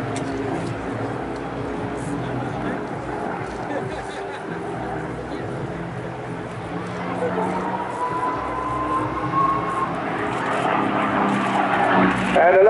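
A P-51 Mustang fighter plane sweeps past at the Bournemouth Air Festival, a steady distant engine drone that swells toward the end, under crowd noise and a public-address commentator talking throughout.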